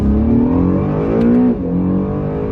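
A 2017 Acura NSX accelerating hard, its engine note climbing steadily then dipping briefly with a gear change before pulling again, loud and close throughout with no talking.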